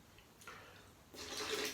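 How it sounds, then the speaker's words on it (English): Water is poured into a blender of fruit and cream with apricots, a soft splash that starts gently and swells into a louder, brighter rush near the end, with no talking. "I can add a little bit more water."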